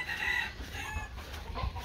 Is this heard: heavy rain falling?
no